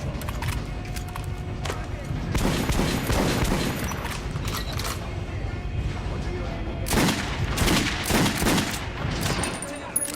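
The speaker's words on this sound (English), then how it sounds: "Shoot the dummy in the head." Gunfire from a Metro: Last Light shooting range as shots hit a training dummy, several bursts of loud shots in clusters with a steady game background hum between them.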